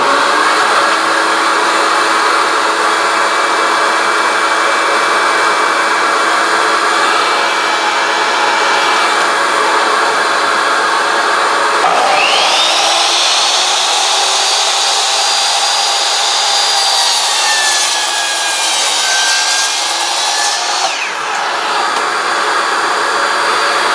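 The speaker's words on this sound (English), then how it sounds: "I'll show you what happens when you hook just the vacuum to it." A shop vacuum hooked to a miter saw for dust collection roars steadily and loudly throughout, while the saw's motor spins up and whines through a cut in wood midway, then winds down.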